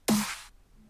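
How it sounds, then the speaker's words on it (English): One crisp snare drum hit, a sharp crack with a bright noisy rattle that decays quickly into silence. "The snare usually sounds like this."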